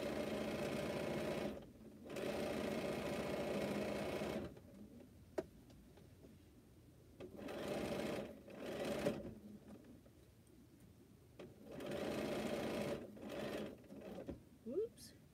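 A home sewing machine stitches quilt rows in several sustained bursts of steady, rapid whirring, separated by pauses with light handling noises, while someone talks between and over the runs.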